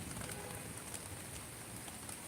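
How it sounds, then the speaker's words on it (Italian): Light, steady rain falls over the rooftops of Salerno, a soft continuous hiss of drops with no thunder, even and moderately close throughout. "Qui a Salerno piove, non in modo esagerato, però piove ragazzi"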